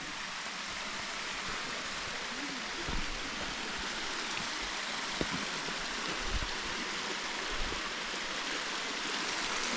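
A small stream of water flows near the Dolphin House in Kodaikanal, with a constant hiss of running water and no talking.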